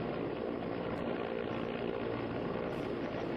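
An Indian Air Force helicopter hovering during a rope rescue, giving a loud, continuous broadband rotor and engine roar that holds steady throughout with no talk over it.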